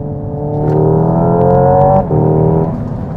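A Hyundai IONIQ 5 N electric car's simulated engine drone holds steady, briefly dips as it downshifts, then resumes at a different pitch, loud and close.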